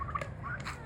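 Turkeys gobbling while sunbathing in the morning, a short burst of warbling gobble calls, moderately near over a low background rumble.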